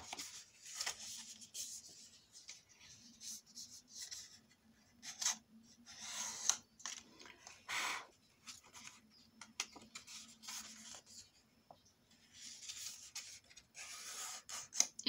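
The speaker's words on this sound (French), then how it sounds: "Et je marque mes plis." Paper folds are pressed and creased for a handmade album box, giving soft, close rubbing and scraping strokes in irregular bursts across a quiet room, with no voices.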